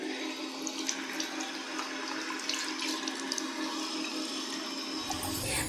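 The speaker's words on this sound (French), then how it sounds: "Voilà, et ensuite un petit coup d'eau." Tap water running and splashing steadily at a sink while a face is rinsed during a beauty routine, a continuous watery hiss with small splashes, moderately close and without talk.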